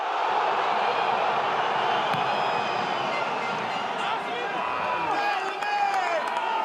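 A large stadium crowd at a Top 14 rugby match between Castres Olympique and Lyon keeps up a steady roar with scattered shouts and whistles, while a commentator talks over it.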